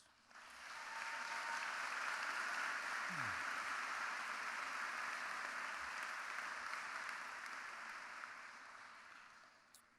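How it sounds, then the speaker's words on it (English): A graduation ceremony audience at Flagler College applauds for the graduates, giving a broad, sustained wash of clapping that swells and then slowly fades over about ten seconds. "Please join me again in applauding these amazing graduates."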